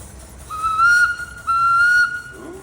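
Two short, bright blasts from a steam tractor whistle at a steam tractor parade, each held for about half a second over faint background noise.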